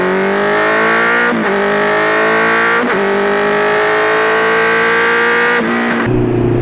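A 2020 Honda CB650R four-cylinder motorcycle accelerating hard: loud, smooth rising engine whine climbing through the revs, broken by three quick gear changes with brief dips before pulling up again, ending on a lower settled note.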